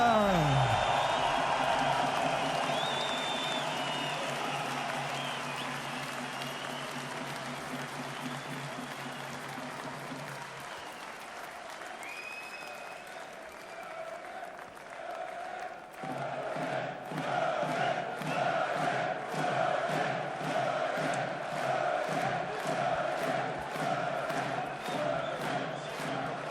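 Arena crowd at a boxing match cheering loudly and continuously for the reigning WBA light heavyweight champion, a dense roar of voices with rhythmic chanting swelling in the second half.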